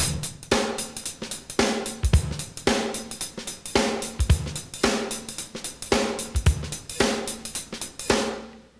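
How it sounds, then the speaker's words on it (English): A drum kit plays a jazz beat adapted into a contemporary groove, with a steady repeating pattern of kick, snare and cymbal hits, close and loud, with no talking. "you could take the jazz beat and apply it to some contemporary nice grooves"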